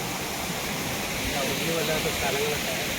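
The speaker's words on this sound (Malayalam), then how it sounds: "ചെറിയ അരുവി" Steady rushing of a small forest stream near Kollengode, Palakkad, a continuous hiss of flowing water without pause.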